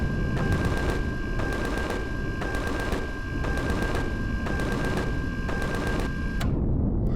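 Rapid, steady cannon fire from a spacecraft weapon in Empyrion Galactic Survival, with evenly spaced heavy shots pounding continuously over a dense rumble, loud and close, stopping abruptly near the end.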